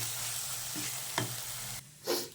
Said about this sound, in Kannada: ಮೊಟ್ಟೆ ಸಪ್ರೇಟ್ ಫ್ರೈ ಮಾಡ್ಕೊಳ್ಳೋಣ